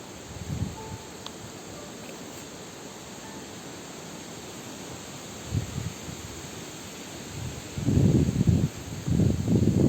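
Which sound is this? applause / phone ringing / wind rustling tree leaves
wind rustling tree leaves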